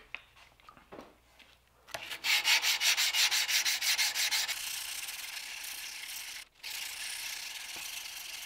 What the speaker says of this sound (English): I have sanded this to 1200 grit now.